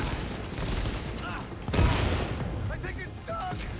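Gunfire in Tom Clancy's The Division during multiplayer co-op play, a quiet burst of rapid shots with a sharper crack near the middle, mechanical clicks around it, heard faintly in the background.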